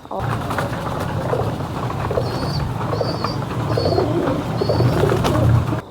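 Pigeons coo in low, repeated murmurs close by, layered with higher bird chirps and a busy rumbling background.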